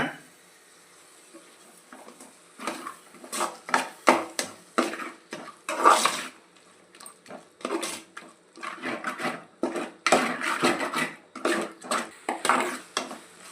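A metal ladle scrapes and clinks against a pan of curry as it is stirred, in an irregular run of knocks and scrapes that comes close and fairly loud, with no talk over it.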